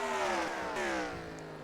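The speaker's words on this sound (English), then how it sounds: "we can see Drew Walker attempting to overtake on Alejo" Race cars in the NR2003 racing game at Lausitzring in Germany drone past with a loud, steady engine whine that shifts slightly in pitch, heard alone for a brief moment.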